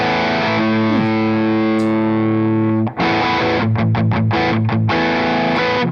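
Electric guitar driven through a high-gain distortion pedal with a crisp Marshall-amp character, held chords ringing loud and sustained, then a brief cut and a run of choppy, stabbed chords before a final sustained ring.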